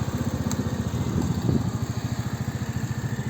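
An RKS Newlight 125 motorcycle's small single-cylinder engine idles steadily and close by, a low, even putter with a few faint clicks over it and no talk.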